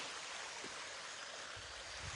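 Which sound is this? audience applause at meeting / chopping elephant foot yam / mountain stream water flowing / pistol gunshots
mountain stream water flowing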